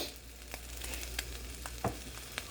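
A breakfast wrap tortilla sizzling in a frying pan, a steady close crackle of frying with a few sharper clicks and pops from turning it, no talking.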